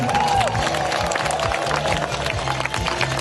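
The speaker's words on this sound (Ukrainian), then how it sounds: "Аплодуємо." Loud, steady applause from a crowd at a charity run, with dense clapping and some cheering running throughout without a break.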